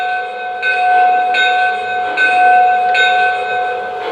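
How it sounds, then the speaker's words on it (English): A model 0-4-0 locomotive's electronic bell rings in steady, evenly spaced clangs, about five strikes close and clear, with a ringing tone sustained between hits. "the bell"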